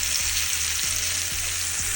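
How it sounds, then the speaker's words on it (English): Short ribs brown in a hot skillet with a loud, continuous sizzle close up, and a low hum underneath with small regular ticks, and no one speaking. "I'm turning them on all sides to get all of the sides brown."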